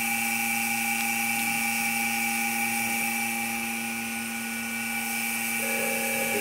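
A vacuum setup draws resin through holes during prosthetic socket lamination, producing a loud, continuous high whine with steady tones that holds constant throughout.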